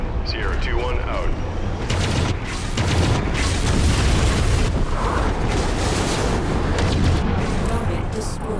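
An airstrike payload detonating in Mechwarrior 5: Mercenaries, a loud sustained barrage of booming, rumbling explosions rolling continuously through the clip with little pause.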